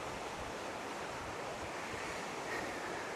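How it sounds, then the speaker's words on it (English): A Lake District river that has burst its banks gives a continuous, dense rushing roar of floodwater, steady and fairly close, mixed with wind buffeting the microphone. "River's burst its banks."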